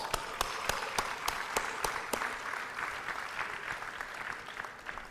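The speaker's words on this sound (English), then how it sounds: "So one huge round of applause." An audience at the Shanti Sarovar SIT retreat's sixth anniversary gives a round of applause: sharp, spaced claps at first, swelling into a steady, moderately distant wash of clapping that carries on to the end.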